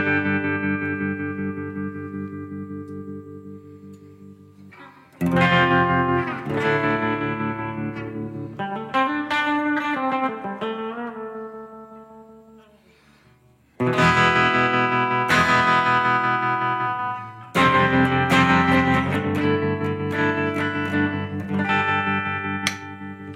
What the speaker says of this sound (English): I've got a reverb, a plate reverb, I've got a tremolo, and it's a clean amp with the gain